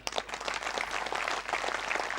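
A crowd applauds, a dense burst of clapping that holds steady for a couple of seconds at moderate loudness.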